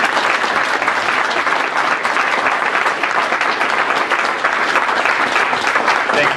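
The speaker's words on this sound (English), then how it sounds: "I want a big round of applause for Mayor Martin and Jim Thibert." Loud, dense applause from a full audience at a civic State of Fort Erie event, steady and sustained without a break from start to finish.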